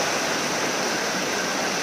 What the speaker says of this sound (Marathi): आता केरळमध्ये इतक्या जोरात पाऊस चाललाय